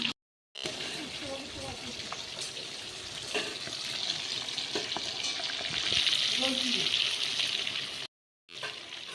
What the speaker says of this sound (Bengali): আগে থেকে ম্যারিনেট করে রাখা চিকেনগুলো এক এক করে ফ্রাই করে নিতে হবে